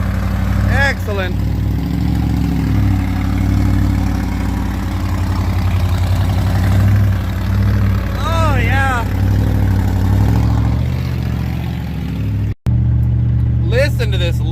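A 1984 Chevy truck with a 6.2 diesel and hood stacks idles loud and close with a steady low rumble, while a voice talks briefly over it and short squeaky tones break through.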